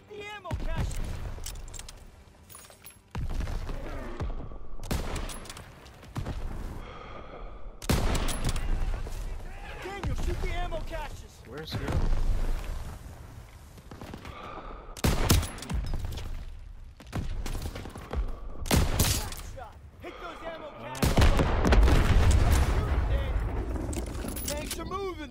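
Bursts of rifle and machine-gun fire from a supporting soldier in Call of Duty WW2, loud and close, arriving in repeated volleys separated by short lulls, with voices talking between them.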